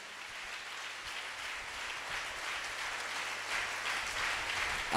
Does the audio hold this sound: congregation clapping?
yes